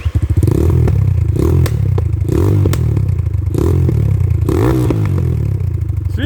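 A motorcycle engine revs hard and unevenly with a misfiring spark plug, loud and close, its steady drone broken by stuttering dips and surges over about six seconds.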